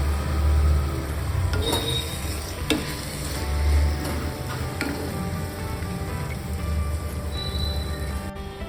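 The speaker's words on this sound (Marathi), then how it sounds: "शिजवलेले छोले मी आता ॲड केलेले आहेत तर आता ह्या रेसिपीला पाच मिनटं ह्या भाजीला छान परतून घ्यायचं आहे" Cooked chickpeas for chole masala sautéing in a pan, a loud close sizzle with repeated scraping stirs of a spoon and occasional light clinks, steady throughout with no talk.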